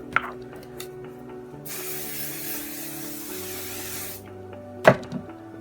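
Hairspray is sprayed onto hair in one continuous hissing burst of about two and a half seconds over a faint background hum, followed by a couple of soft clicks and a knock.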